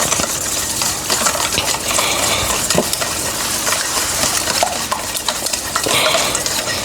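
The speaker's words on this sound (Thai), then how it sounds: "คนให้พอเข้ากันนะคะ ไม่ต้องให้น้ำตาลละลายหมดก็ได้นะคะ" A spoon stirs sugar into waffle batter in a bowl for a sausage waffle made without cow's milk, giving a steady, close scraping and swishing that runs the whole time with no voices.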